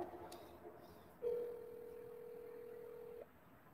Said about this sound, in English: Let's get Arthur on the phone